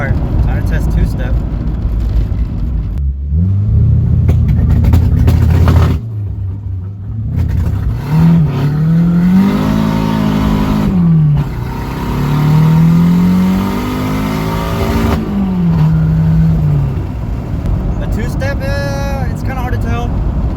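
A Nissan S14 with a turbocharged KA24DE and custom exhaust revs against two-step launch control, the engine note climbing and holding in repeated loud, close bursts, with pauses between pulls.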